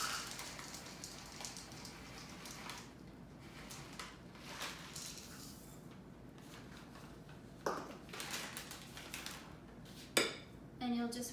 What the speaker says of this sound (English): I'm going to add in 1 cup of chocolate chips and continue mixing.